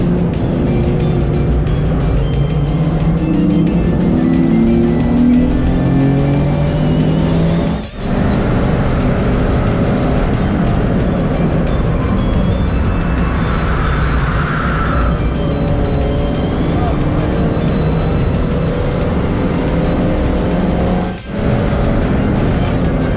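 A Mazda 2 race car circuit racing on a track, its engine droning loudly and steadily through gear changes, with tire noise and brief dips as the driver shifts, no talking.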